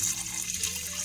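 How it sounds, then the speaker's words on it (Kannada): Water pours steadily into a pressure cooker while a home cook prepares toddler food, a brief, close, continuous splashing gush with no talk. "ನಾನು ಇನ್ನೂ 1 ಗ್ಲಾಸ್ ಅಷ್ಟು ನೀರು ಹಾಕೊತಿದ್ದೀನಿ"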